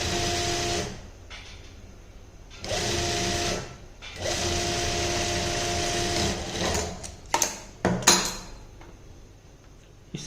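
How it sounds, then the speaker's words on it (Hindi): An electric sewing machine stitching a pintuck neck design runs in several bursts of rapid, whirring stitching separated by short pauses, close and clear, with a few clicks and handling knocks toward the end. "यहाँ पे ऐसे एक पैर का मार्जिन लेते हुए सिलाई लगाएंगे"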